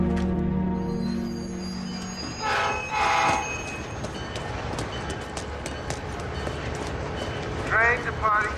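A train rumbles at a railway station with a low steady roll, a horn-like tone early on and brief squeals of wheels, while a station announcement and nearby voices carry over the noise.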